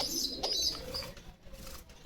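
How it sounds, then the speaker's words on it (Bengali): Giribaj pigeons, a pair kept with their chicks in a pigeon house, coo softly in short low calls, with some faint chirps and wing movement close by and no talking. "এই দেখেন এই জায়গাতে একজোড়া গিরিবাজ কবুতর আছে,"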